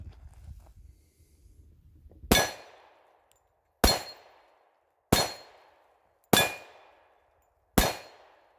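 A Glock 29 10mm pistol fires five shots at a steady pace about a second apart, each a sharp, loud crack with a metallic ring as it strikes a steel target.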